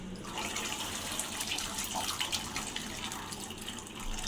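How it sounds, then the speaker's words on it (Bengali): A pot of milk being poured out, a continuous soft splashing stream of liquid, faint and steady throughout, with no voices. "এক পাতিলা দুধ এগুলো ঢেলে দাও"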